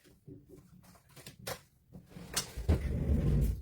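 A sticking drawer in a home art workspace is pulled open or pushed shut, giving a few scraping, knocking bursts followed by a louder rumbling slide near the end, with no talk.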